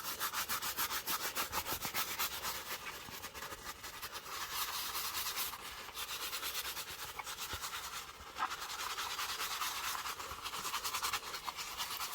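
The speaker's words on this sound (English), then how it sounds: "let's just go ahead and brush it off and get any of the excess" A brush scrubs excess black dye off a black leather Tory Burch ballet flat in steady, rapid strokes, a close, continuous raspy rubbing with brief slight pauses.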